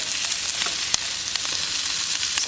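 Breakfast sausage stir fry with herbs sizzles steadily in a saute pan, a dense continuous crackle with a few sharper pops and small clicks, close and alone with no talking.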